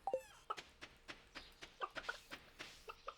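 Chickens clucking in the Stardew Valley farming game, a string of short, evenly spaced clucks and cackles running through the clip at moderate loudness, with no talk over them.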